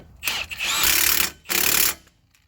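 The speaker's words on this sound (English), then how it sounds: "Hopefully we can just impact this guy down without having to get a second wrench." An impact wrench drives the hub nut on a Dodge Caravan wheel bearing assembly in two loud rattling bursts, each about a second long, with a short gap between them.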